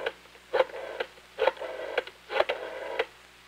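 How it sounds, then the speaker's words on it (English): Telephone dialing tones on a 1964 Dialcom phone system, a series of short tone bursts spaced about half a second apart, heard clearly with no talk over them. "all you need to know to make Dialcom work for you is to dial 8, then the location code, and the extension"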